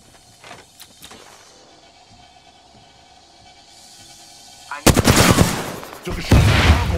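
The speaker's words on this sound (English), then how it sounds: "Took a shot at the cargo bot." Apex Legends gunfire comes in after a quiet stretch of faint game sounds, as loud, sharp bursts of rapid shots filling the last couple of seconds.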